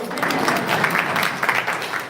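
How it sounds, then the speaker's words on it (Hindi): Audience clapping at a Jain religious discourse, a dense continuous patter of many hands held steadily for about two seconds, with some murmur mixed in. "तालियां बजा दो एक बार"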